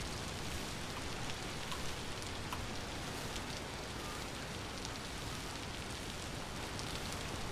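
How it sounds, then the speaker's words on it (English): Freezing rain in the game Vintage Story falls as a steady, even hiss of drops striking surfaces, unbroken and fairly quiet throughout, with no voices. "Now it's just the freezing rain."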